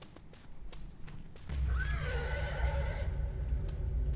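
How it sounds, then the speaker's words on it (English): A horse neighs loudly with a rising then falling whinny, over a steady low rumble and faint clip-clop, in the video game Liminal Shift, Forest Ranger Services. "That was a horse sound,"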